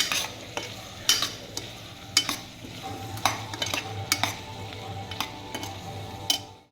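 A spatula stirs Gujarati-style fried rice with tomatoes in a pan, its sharp scraping clicks landing every second or so over a low, gentle sizzle, near and quiet, with no speech.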